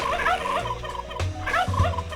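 A chicken-style clucking buzzer effect from a party video game, sounding in two quick squawking bursts, loud and close, with no talk over it.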